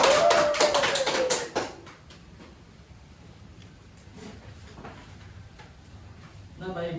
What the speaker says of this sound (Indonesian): Kita kasih tepuk tangan dulu untuk kita semua.